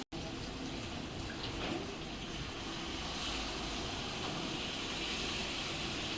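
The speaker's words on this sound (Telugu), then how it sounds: "కొద్దిగా నీళ్ళు అయితే వేస్తున్నామండి" Water pours into a pot of mutton curry as a steady, full rushing wash that runs unbroken from start to finish, close and fairly loud, with no voices.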